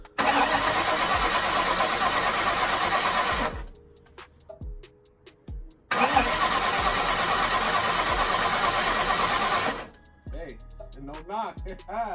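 A rebuilt 4.6 DOHC Cobra V8 engine cranks loudly and steadily for several seconds while being primed with oil, pauses, then cranks again for a longer stretch, with brief voices in the quiet gaps.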